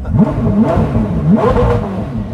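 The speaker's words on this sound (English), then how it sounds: "Hear that? And a little rev for the boys." A Koenigsegg Jesko engine revs up twice in quick succession, close and loud, its pitch climbing and falling with each blip.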